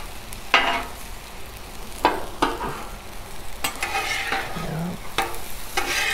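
Shrimp stir-fry cooking on a 36-inch Blackstone griddle outdoors, with a steady sizzle broken by several sharp spatula scrapes and clanks as it is stirred up, close and fairly loud.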